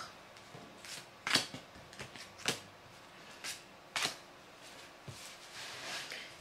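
Tarot cards shuffled and laid out for a three-card spread, heard as several crisp flicks and slaps spaced a second or so apart, close and quiet.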